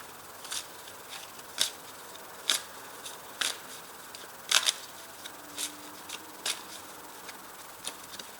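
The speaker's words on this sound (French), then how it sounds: "je rajoute une carte dessus" Tarot cards are handled and placed onto a spread, giving a series of faint, crisp taps and slides at irregular intervals in a quiet room, with no talk.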